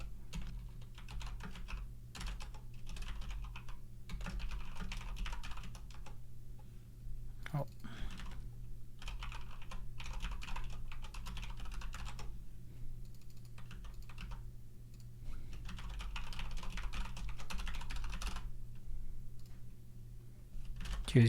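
Steady typing on a computer keyboard while filling in a sign-up form, with bursts of quick key clicks broken by short pauses, close and clear over a low background hum.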